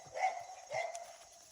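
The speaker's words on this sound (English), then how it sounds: "We have my neighbor's dog barking with us" A neighbor's dog barks twice at a moderate distance, two short bursts about half a second apart, with faint background noise and no talk.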